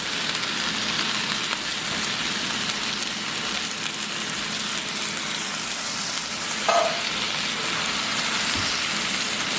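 Chopped tomatoes sizzle in a hot pan for a Guatemalan chicken-in-cream dish, a steady loud crackling hiss with one brief scrape of a spoon stirring, no talking.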